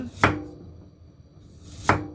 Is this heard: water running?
no